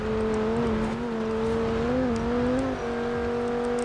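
A stock 2009 Audi RS 6 in Forza Horizon 4, its engine held above 6,000 RPM, gives a loud, continuous high-revving drone whose pitch wavers slightly before settling.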